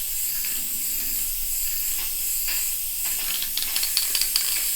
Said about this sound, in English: I'm just going to go ahead and now just spray liberally.